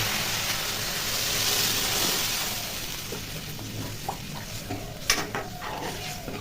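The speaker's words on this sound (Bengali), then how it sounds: "এখন জল দিয়ে দেবো।" Water poured into a pan of spiced paneer posto masala, raising a steady close sizzle and bubbling that swells in the middle and settles, with a few sharp clinks of a spoon against the pan near the end.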